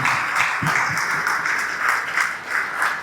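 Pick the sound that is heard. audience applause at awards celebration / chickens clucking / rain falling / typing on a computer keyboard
audience applause at awards celebration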